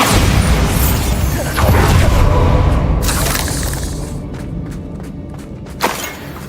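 A Bombarda blasting spell in Hogwarts Legacy sets off a loud, close boom with a long rumbling tail. The rumble fades into scattered debris crackles and a final sharp pop.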